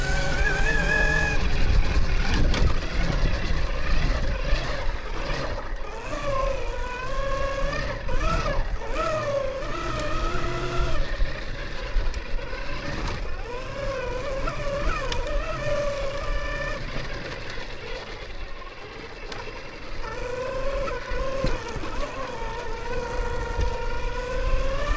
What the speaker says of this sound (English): So different riding an electric bike.